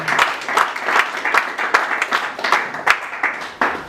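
Audience at a Congolese business association gathering claps together, a dense, steady wash of hands with sharp peaks throughout, fairly loud and sustained, no talking over it.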